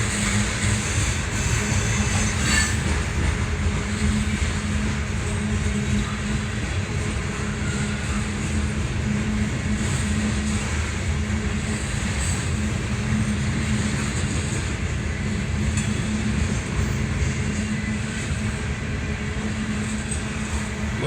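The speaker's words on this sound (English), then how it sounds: "Loaded coal train." A heavy loaded CSX coal train rumbles past in downtown McKeesport, a steady loud roar of wheels and rail noise with faint high squeals, lasting the whole time.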